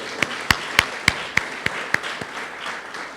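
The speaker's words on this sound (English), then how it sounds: "let's give her a round of applause and let's send it back to her." A small audience claps in a handful of sharp, spaced, fairly close claps at a university campaign announcement, then tapers off into quieter scattered clapping.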